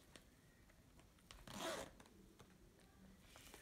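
A zipper closes on a Disney Princess cosmetic case in one quick, close pull of about a third of a second, with light handling rustle before and after.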